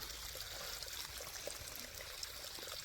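Steady broadband rush of irrigation water flowing through furrows in a field, like a trickling stream running continuously at moderate level, with no voices.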